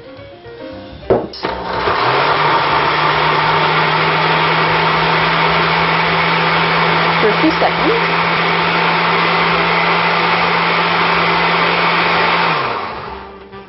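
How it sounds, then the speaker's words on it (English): A kitchen blender pulping a mixture of paper and water for seed paper, its motor whirring steadily and loudly for about eleven seconds after a brief start, with a few words spoken just before it kicks in. "you want to make sure you've got some water in there so that you don't wreck the blades on your blender"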